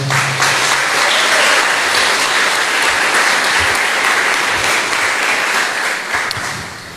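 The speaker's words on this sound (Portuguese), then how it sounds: "Então eu queria que vocês aplaudissem pela vida da nossa caravana." A church congregation bursts into sustained applause, dense and loud clapping that fills the room steadily for several seconds before tapering off at the end.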